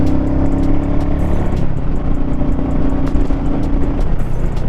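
Motorcycle being ridden, a loud continuous engine drone with steady road and wind rush, the pitch holding fairly even throughout, no talking.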